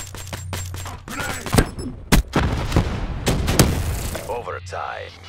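Black Ops III multiplayer combat: bursts of gunfire and heavy booming blasts, one sharp explosion standing out midway, with radio-style voice callouts over the shooting.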